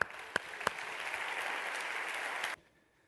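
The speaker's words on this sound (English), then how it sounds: "So I want to give you guys a round of applause." An audience at a keynote talk applauds in a steady, fairly faint wash of clapping with a few sharp louder claps, then stops abruptly, leaving near silence.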